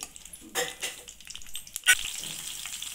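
Green chili pieces fry in a pan with a close, steady sizzle, while a spatula stirs them in a few scraping strokes and one sharp knock against the pan.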